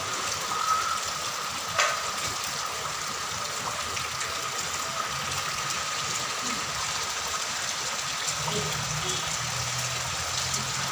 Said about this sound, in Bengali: প্রচুর বৃষ্টি হচ্ছে, ঝড় বৃষ্টি সব।